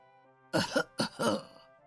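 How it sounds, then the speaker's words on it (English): A man coughs lightly to clear his throat, two short, close rasping bursts in an otherwise quiet room. "my father coughed lightly to get my attention"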